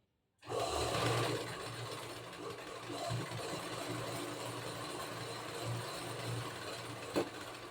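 A sewing machine stitches a zigzag edge on a saree fall, a steady close mechanical whirring and rapid needle chatter running continuously, with one brief knock near the end.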